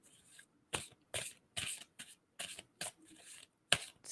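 Tarot cards are shuffled by hand in about nine short, papery riffling bursts with brief silent gaps between them, close and fairly quiet.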